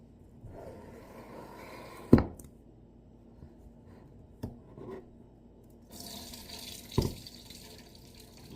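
Drained hominy for pozole verde being rinsed under a tap, with soft water running and rubbing in a colander, a few sharp clanks, and a louder gush of flowing water near the end.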